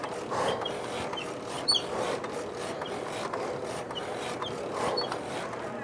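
Rhythmic mechanical rubbing and ratcheting from an exercise machine working arms, legs, abs and back in a gym, a steady cycle of whirring strokes with periodic louder pulls, no talking.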